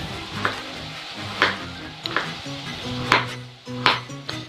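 A knife chops carrots into rough half-rounds on a cutting board in a home kitchen, sounding as sharp, evenly spaced thuds about once every second, close and moderately loud with no talking.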